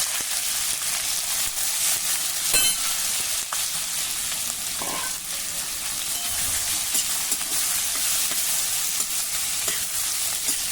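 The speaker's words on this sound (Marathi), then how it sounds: "जिरे मोहरी नीट तळतळली की यामध्ये हळद घालूया आणि हे कांदे देखील घालू।" Onions and turmeric fry with cumin and mustard seeds in a pan, making a steady, close, rain-like sizzle with occasional crackles and a faint stirring scrape throughout.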